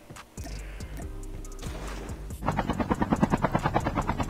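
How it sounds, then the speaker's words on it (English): A video game helicopter closes in, its rotor building into a loud, rapid rhythmic chopping that dominates the second half over low game ambience. "Chopper."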